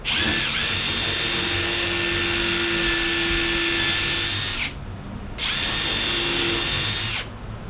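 A power drill bores a slightly oversized hole for a rudder post on an Epic V9, whining loudly for several seconds, stopping briefly, then spinning up again for a shorter second burst.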